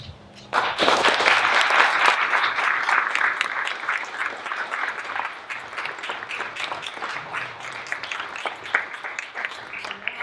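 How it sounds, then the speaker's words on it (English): An audience claps for Eagle Scouts and their parents at a Scout court of honor. The applause bursts in loud and dense, then continues steadily and tapers slightly over ten seconds. "if I could ask all of the Eagle Scouts and their parents to stand up for one more round of applause"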